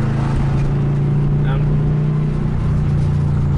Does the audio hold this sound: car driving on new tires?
yes